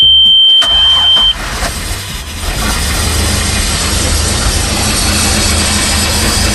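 An inboard/outboard boat engine starting after a few throttle pumps: a brief starter whine and crank, then the motor catches and settles into a loud, steady rumbling idle close by.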